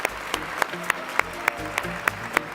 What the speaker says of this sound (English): our panel of judges, let's give them a round of applause